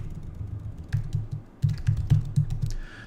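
Keys clatter on a computer keyboard as code is typed for an RSpec matcher test, bursts of close, crisp clicks with brief pauses between, no voices.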